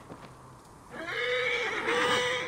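A horse whinnies loudly in the game Assassin's Creed Origins. The long, wavering neigh follows a second of quiet ambience and fills the rest of the moment with no talk.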